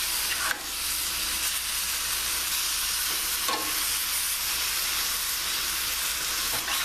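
Chicken breast pieces fry in a pan for a Mediterranean-style dish, giving a steady, loud, continuous sizzle with a few brief crackles and no talking.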